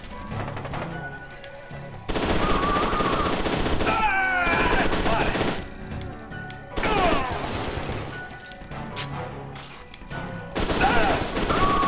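A firefight in the shooter game F.E.A.R. 2: loud, close bursts of automatic gunfire keep breaking out with short pauses between them, mixed with impacts and the clatter of battle.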